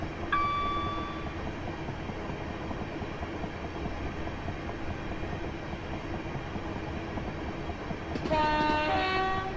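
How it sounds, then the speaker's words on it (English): A Class 375 electric train on the Chatham Mainline in Train Simulator 2016 sounds a short tonal horn blast near the start and a longer two-tone horn near the end, over steady rolling rail noise. "There's the horn."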